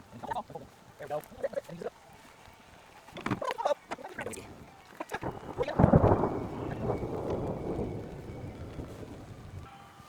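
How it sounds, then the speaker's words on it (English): Rain and a thunderclap during an overland drive through backcountry roads, with a loud rumble swelling midway and steady rain hiss continuing beneath it; bursts of talk come before the thunder. "It began to rain"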